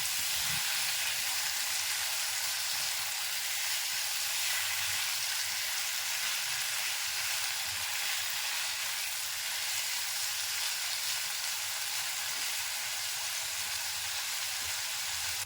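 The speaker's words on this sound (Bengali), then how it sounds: "এবারে চিংড়িগুলোকে তেলের মধ্যে দিয়ে একটুখানি গোল্ডেন করে ভেজে নিলেই তুলে রাখবো।" Prawns fry in oil until golden for a dab chingri dish, giving a continuous, even sizzle with a soft bubbling crackle that runs unbroken and alone.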